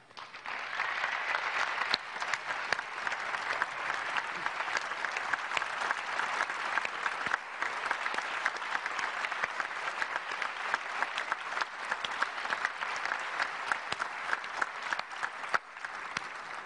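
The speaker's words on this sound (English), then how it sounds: "If you guys could just stand up so we could give you a round of applause." Large audience at an Apple iPad 2 presentation applauding the product team, a long, even, dense roar of clapping that holds steady throughout.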